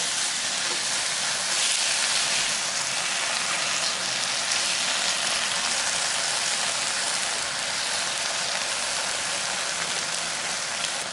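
Thin-sliced beef sizzles steadily in a pan over medium-high heat, a dense, even frying hiss that holds at the same loudness throughout with no voices over it.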